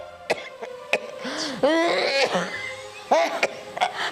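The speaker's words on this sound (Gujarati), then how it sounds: "ઉધરસ આવે છે મારા હાથમાં નથી" Several sharp, close coughs come in short bursts, mixed with strained, throaty vocal sounds between them.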